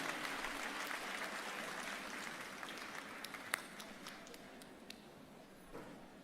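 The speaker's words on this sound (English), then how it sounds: "Let us give a final round of applause to this year's class of Faculty Excellence awardees as they take their group photo." Audience applause at the 2023 Xavier University of Louisiana commencement for faculty excellence awardees, a broad, steady clapping from a large crowd with a few sharper individual claps standing out as it gradually eases.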